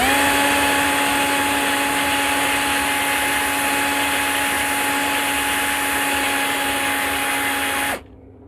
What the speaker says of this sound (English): I realise there's a buzzing noise in the background, and that's because the tumble dryer is on.